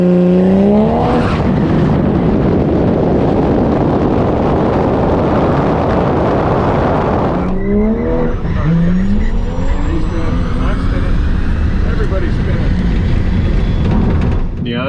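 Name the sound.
drag race car wheels spinning on track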